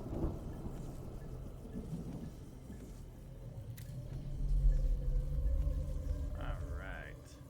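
A thunderstorm in the game Mind over Magic sounds as a low, swelling rumble of thunder over steady rain, with a voice talking over it.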